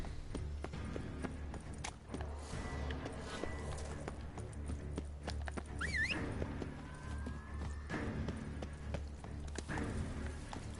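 Roach, the horse in The Witcher 3, gallops in rapid rhythmic hoofbeats under a steady low rumble of game sound, with a brief whinny-like call partway through.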